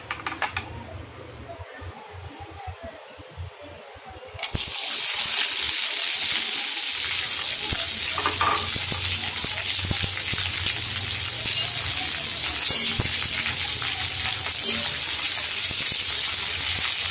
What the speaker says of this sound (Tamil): இது ரெண்டையும் இப்போ சேர்த்து வதக்கிடலாம்.